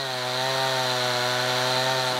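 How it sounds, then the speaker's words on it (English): Chainsaw running at a steady, high-revving whine while carving wood, loud and close with a constant buzzing drone and no pauses or voices. "I've been carving with a chainsaw for 18 years now."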